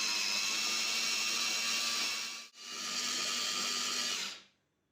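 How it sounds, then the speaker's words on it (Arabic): A kitchen food chopper grinds falafel greens with salt, dried coriander, cumin and small chilies, a loud steady whirring blend that stops briefly mid-way, restarts, then cuts off near the end. "هبدأ بقى اضربهم كلهم في الكبة وانعم"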